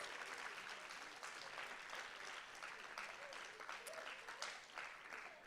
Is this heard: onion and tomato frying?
no